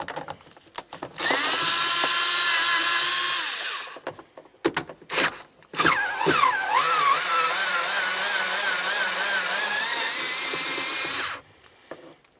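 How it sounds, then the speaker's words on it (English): Power tool spinning out 10mm bolts inside a 1999-2003 Toyota Solara during a rear strut and spring replacement: two long, loud whirring runs close by, the second wavering in pitch, separated by clanks and handling noise. "Behind that there's some 10mm headed bolts. Go ahead and remove the pair."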